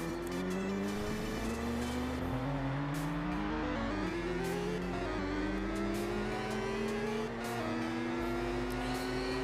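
A car engine in a Unity-built racing video game hums and climbs in pitch as it accelerates, with occasional tire squeals, loud and continuous with no talking.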